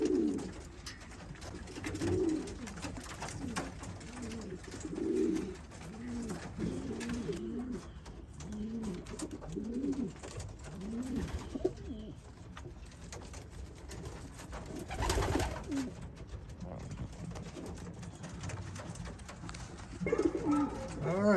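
Racing pigeons back in the loft after a third young-bird race coo repeatedly in soft, overlapping rolling phrases, a near and steady chorus with occasional flutters and faint background noise.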